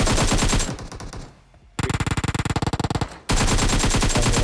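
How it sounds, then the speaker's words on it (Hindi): Bursts of rapid automatic gunfire in PUBG Mobile, loud and close, with a brief lull then a fast rattling volley before heavy firing resumes. "आगे गोलियां चल रही थी"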